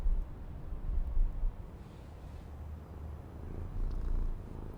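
A pet cat purrs steadily and close up while being snuggled, a low rumbling pulse that swells and fades in gentle waves with no talking.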